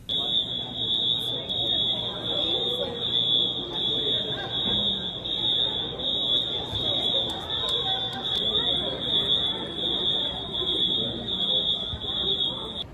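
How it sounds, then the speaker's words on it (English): Fire alarms sounding in the customs hall at Newark airport, a steady high electronic tone running the whole time with faint indoor crowd murmur and footsteps beneath it. "welcome to Newark, where in customs the fire alarms are going off"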